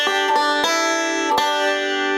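Forward roll on banjo with fretted notes, from Standin' in the Need of Prayer: a short run of crisp, ringing plucks a few beats apart, close up with no voices.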